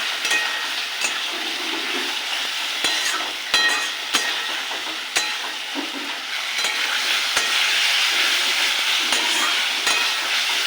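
Fried potatoes and spices sautéing in a pan for banana flower kofta curry: a steady loud sizzle punctuated by regular sharp clicks of a spatula against the pan.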